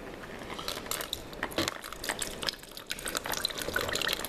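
Water and loose limescale pour out of an upturned Morphy Richards Power Steam Elite steam generator boiler into a sink, a continuous splashing trickle with scattered drips and small rattling bits.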